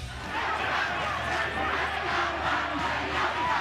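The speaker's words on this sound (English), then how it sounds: "Great crowd as always here in Potchefstroom, backing" A large crowd at a university rugby match in Potchefstroom, NWU-Pukke against University of Johannesburg, roars and chants in a dense, continuous wash of voices that holds steady throughout.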